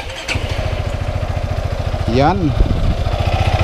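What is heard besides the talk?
Yamaha XMAX 300 scooter engine starting and idling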